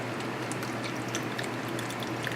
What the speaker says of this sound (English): And I pour enough to cover